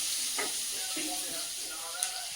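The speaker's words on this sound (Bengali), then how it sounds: "তারপরে একটু পেঁয়াজ কুচি দিলাম। পেঁয়াজ কুচিটা একটু নাড়বো কিছুক্ষণ" Chopped onion frying in a pan and being stirred, a steady soft sizzle with a few light scraping stirs, fairly quiet and without speech.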